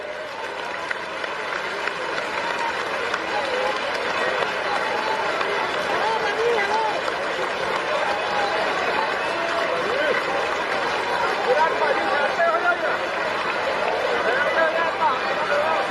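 Crowd at a Lok Sabha election rally in Nawanshahr, Punjab, clapping steadily to welcome Mayawati, dense sustained applause with murmuring voices throughout, loud and continuous.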